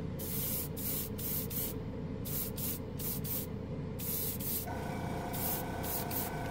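Airbrush spraying Gaia Notes gold paint with the compressor set at 20 PSI, a steady close hiss broken into repeated bursts as the trigger is pressed and released.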